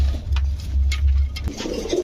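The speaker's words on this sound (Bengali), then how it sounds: "এটা মাদি কবুতর ওইটা নর কবুতর" A pigeon coos close by in a pigeon-selling market, a low, throaty rolling call repeating for about a second and a half before fading into faint background bustle.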